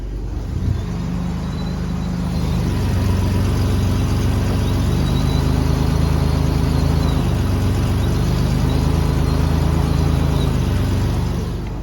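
A third-generation Toyota 4Runner with a freshly installed transmission runs on the spot, its engine humming steadily at close range as the gearing shifts into reverse, with shifting drivetrain tones and no voices.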